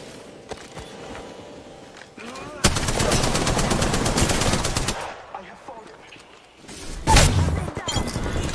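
Rapid automatic gunfire from a battle royale video game, loud dense bursts running for a couple of seconds, with further sharp single shots and short volleys before and after, a voice briefly heard amid the shooting.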